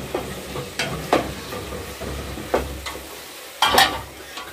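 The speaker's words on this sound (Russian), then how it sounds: "Берем мешалку и перемешиваем." A paddle stirs plov rice with cumin in a hot pot, giving a series of scraping, shuffling strokes over a low, continuous sizzle.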